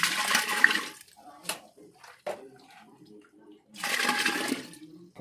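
Jackfruit wine mixture is poured into a pot in two gushing bursts at the start and end, with a few knocks and a voice talking quietly in the gap between them.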